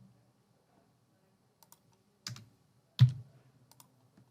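A phone number being typed on a computer keyboard: a handful of sparse, separate key clicks, close and fairly quiet, with a slightly louder tap near the middle and no talking.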